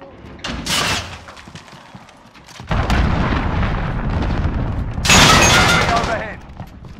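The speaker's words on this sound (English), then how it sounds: "Allied cruise missile away." Heavy explosions from an allied cruise missile strike in the Call of Duty video game, several loud booming blasts with rumbling debris, two dense surges around mid-clip and near the end over a constant battle din.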